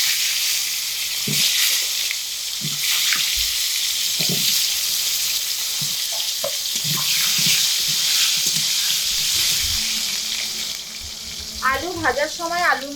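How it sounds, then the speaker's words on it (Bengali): Cut potatoes fry in hot oil with a loud, steady crackling sizzle and a few stirring knocks, and a voice briefly cuts in near the end. "আলুগুলো তেলের মধ্যে দিয়ে ভেজে নিচ্ছি লাল লাল করে।"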